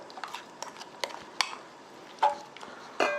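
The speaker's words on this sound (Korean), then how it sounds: "양념해 놓은 고기를 볶아 보겠습니다." Marinated beef stir-frying in a lightly oiled frying pan over high heat, with a soft sizzle beneath repeated clinks and scrapes of a utensil against the pan, several sharper knocks standing out.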